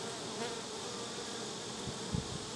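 Honey bees hum around a hive, a dense, even drone holding steady throughout, with a couple of brief soft knocks near the end.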